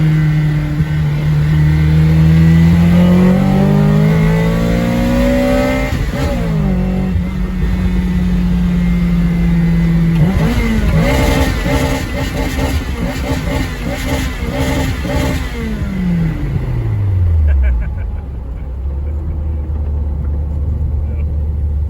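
A VVL-powered Mazda 323 engine roars and revs loudly close by, its pitch climbing and dropping in repeated surges before settling into a low rumble at the end.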